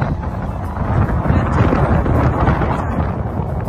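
Wind blows hard across an outdoor spot at Umi Hotaru in Chiba, producing a loud, steady low rumble and buffeting on the microphone with no other sounds.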